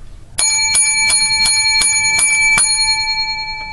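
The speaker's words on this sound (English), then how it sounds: "seven bells for our holiday special" Seven bright, metallic bell strikes ring out at an even pace for a holiday special, each one clear and close, their ringing tones overlapping and slowly fading.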